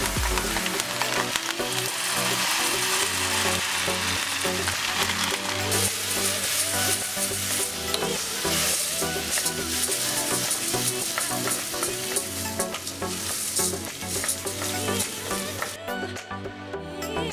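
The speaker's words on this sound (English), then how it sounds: "Toast the rice for approximately 5 minutes." Rice toasting with sweated onion in olive oil for a seafood saffron risotto sizzles steadily, with intermittent stirring scrapes close by and no talk.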